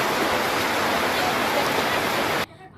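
Monsoon rain falling, a dense, steady hiss of heavy downpour filling the air close by for about two and a half seconds before cutting off abruptly.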